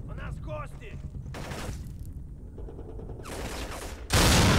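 Gunfire in the EA video game Black, bursts of shots and blasts ending in a loud sustained roar, with a voice speaking over the action.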